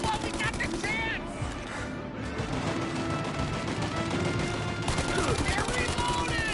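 Automatic weapons fire continuously during a shootout in the video game Mafia Definitive Edition, with clattering bursts and impacts layered over game music, loud throughout, with shouting voices over the fire.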